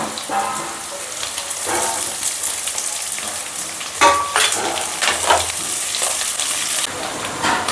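Okra, onion and green chilli sizzle loudly in hot oil in a pan, with stirring and clatter breaking through an even frying hiss at close range.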